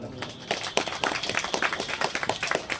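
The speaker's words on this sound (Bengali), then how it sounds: "রাজেশ বিশ্বাস মহাশয়ের জন্য জোরে হাততালি হোক একটা" A crowd at a district medical camp event claps for the district working president, a steady patter of many hands at moderate loudness running throughout.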